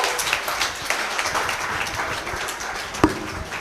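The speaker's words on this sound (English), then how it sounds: "please give another round of applause for that group and for all the groups" Scattered applause from a conference audience at a developer camp after a group's presentation, steady light clapping with a couple of sharper claps, fairly distant and moderate in level.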